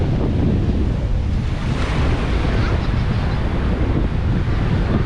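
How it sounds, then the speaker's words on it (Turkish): Strong storm wind roars into the microphone over crashing surf on a beach in Barranquilla, Colombia, a dense, loud, continuous wash of noise with no pauses. "Efsane bir fırtına var. Çok deli rüzgar var yani. Deniz dalgalı ama insanlar yüzüyor"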